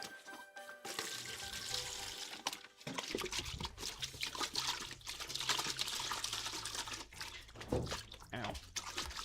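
Water gushes and splashes steadily while car parts are rinsed during a 1982 Corvette restoration, a loud broadband spray with brief pauses and a faint voice underneath.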